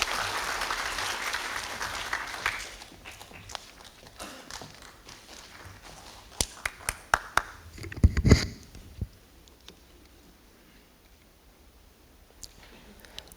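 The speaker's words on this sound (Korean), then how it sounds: "큰 박수 부탁드립니다." Applause from residents at an apartment reconstruction briefing starts fairly full, then thins out into scattered claps and a few louder knocks and shuffles before fading to near quiet.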